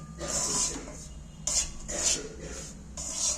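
A utensil scrapes and clinks against a pan while semolina is slowly stirred over a low gas flame for suji halwa, giving repeated bursts of scraping in an uneven rhythm over a low background hum.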